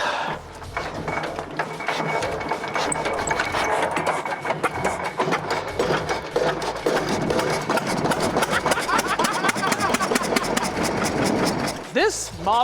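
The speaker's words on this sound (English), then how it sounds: "This Model C is an almost century-old piece of diesel history, and it's still running strong." A nearly century-old Cummins Model C diesel engine runs loud and close, its rapid, steady firing pulses carrying on throughout, with a brief shift in tone near the end.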